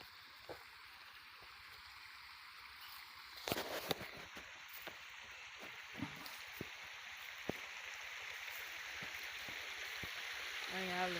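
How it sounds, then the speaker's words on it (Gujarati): Water flowing and splashing at Mandvi, a steady broadband rush with occasional sharper splashes, fairly faint and continuous, with a voice briefly heard over it. "અહીંયા હાલે છે પાણી"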